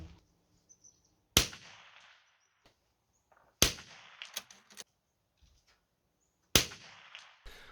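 A rifle topped with a Cabela's Covenant 7 scope fires three sharp, loud, close shots spaced a few seconds apart outdoors, each with a short ringing tail and faint handling noises between.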